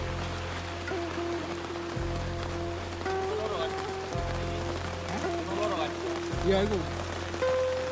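Heavy rain pours steadily at a trail shelter on Mount Slamet, a constant close wash of rainfall under background music, with a brief spoken remark.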